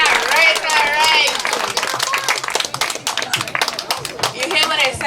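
Audience applause in a crowded hall during a live variety show, dense and sustained across the whole stretch, with whoops and cheering voices rising over the clapping.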